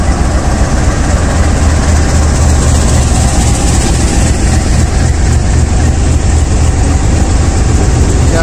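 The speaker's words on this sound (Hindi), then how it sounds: "क्या जबरदस्त साउंड है, चगिंग साउंड इसकी।" An RGE-20 diesel locomotive, number 5104, idles loudly and close up at Sialkot Junction, with a steady, dense engine chug and rumble throughout and no voices.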